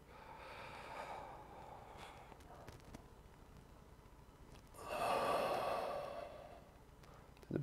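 A deep in-breath during a yoga session, drawn slowly and audibly, with a softer breath early on and a stronger, longer inhale in the latter half.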